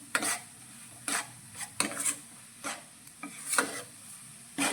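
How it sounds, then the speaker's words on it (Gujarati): Flour and milk are roasted in a pan for sukhdi, a Gujarati sweet. A spoon scrapes and stirs in repeated bursts, with a faint soft sizzle between the strokes. The sound is close and carries no talk. "તો ફરી આપણે એકાદ મિનિટ જેવું લોટને શેકીશું"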